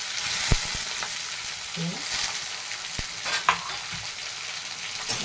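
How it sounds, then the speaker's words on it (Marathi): Okra bhaji with onion, garlic and green chilli sautés in a pan, a soft continuous sizzle broken by a few scraping stirs and light clinks of the spatula, with no voices. "ह्याला एकत्र चांगलं परतून घ्यायचं"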